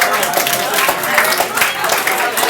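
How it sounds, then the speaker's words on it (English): Audience applause at an evening poetry, recipe and rap event, a steady wash of clapping hands filling the room, with voices mixed into the crowd noise. "round of applause for yourselves"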